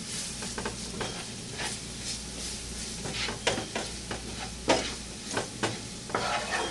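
Sausage and flour fry in a pan for sausage gravy with a steady sizzle, while a spoon scrapes and stirs in repeated sharp strokes, close and moderately loud.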